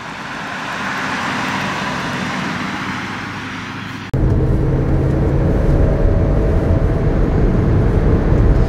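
A 1978 Mercedes 450 SEL driving, a steady broadband road and engine rumble that jumps louder and fuller halfway through, with no talk over it.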